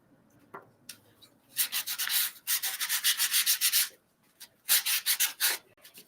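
Rhythmic scratchy sanding on the outer tips and edges of a wooden Christmas tree, in quick back-and-forth bursts separated by short pauses, close and fairly loud.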